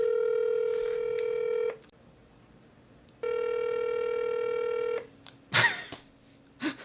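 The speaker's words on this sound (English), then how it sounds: "Okay, I am calling Kiss FM's" Ringback tone of a phone call placed to a radio station's studio line: two long steady rings separated by a pause, clear and close, followed by faint rustling.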